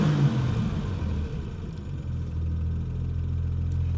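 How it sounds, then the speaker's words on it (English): A Triumph GT6's 2-litre straight-six engine rumbles from inside the car, a low, steady idle with a slight swell in revs, close and alone. "And that 2 litre straight 6 engine is just a dream."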